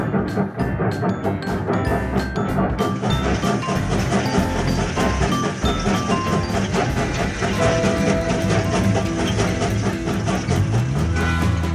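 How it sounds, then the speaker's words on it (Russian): Steady clattering of a passenger train rolling along rails, heard from inside a closed carriage, a dense continuous rumble with rhythmic wheel clicks, loud and close throughout. "Чух-чух, поезд идет"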